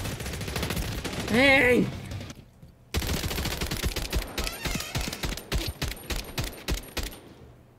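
Rapid bursts of M16 rifle fire in the Call of Duty Modern Warfare 3 video game, loud dense cracks in quick runs filling most of the clip, after a short spoken exclamation and a brief silent gap.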